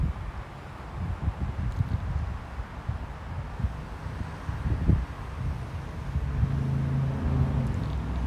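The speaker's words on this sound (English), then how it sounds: "Got a lot of wind here." Wind buffets a drone over the grounds of SDCCU Stadium ahead of its demolition, a steady rumbling roar with low gusty bursts that swell louder toward the end, with no voices.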